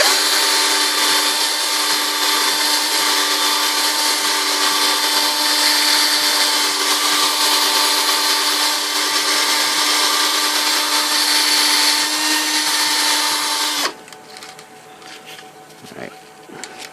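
Steady high-pitched whine of a power tool polishing a plastic Nintendo arcade button, running loud and constant before cutting off abruptly near the end, leaving faint residual noise.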